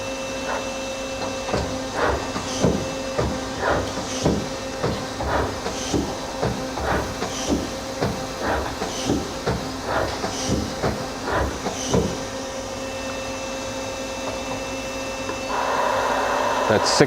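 Mazak SQT-200MY CNC lathe with its live tool spindle running at 600 RPM and no tool mounted, a steady machine whine with rhythmic ticking pulses and a rising hiss near the end.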